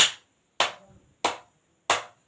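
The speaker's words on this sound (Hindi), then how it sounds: "तो हमें या तो ऐसे जोर जोर से तालियां बजानी होती है," Four loud, sharp hand claps spaced at an even, deliberate rhythm about every 0.6 seconds, performed hard as an acupressure exercise for kidney health, each clap ringing briefly before silence.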